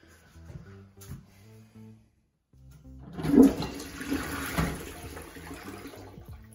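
A toilet stuffed with nearly a whole roll of paper flushes nearby, a rushing gurgle of water that swells loudly and then drains away, preceded by a few seconds of quiet background sounds.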